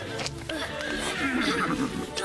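A donkey brays, a ragged, wavering cry heard under and between people speaking nearby in a stable setting.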